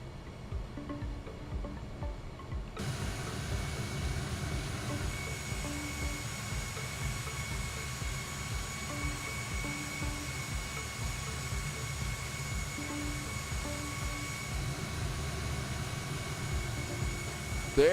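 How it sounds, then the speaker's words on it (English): Steady jet engine roar of a Boeing 747 landing at SeaTac in a flight simulator game, a continuous broadband rumble with faint tonal whine, fairly constant in level throughout. "There's the big 747 that landed."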